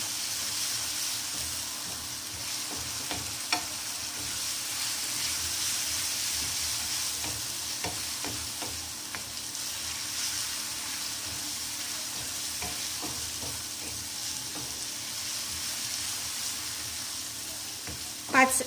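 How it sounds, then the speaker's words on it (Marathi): Garlic and ginger paste sizzles steadily in a hot pan for a long stretch, with occasional scraping of a spatula stirring it and a louder clatter at the very end. "लसूण अद्रकची पेस्ट घेतली होती ती टाकूया। आणि ती सुद्धा परतून घ्यायची छान।"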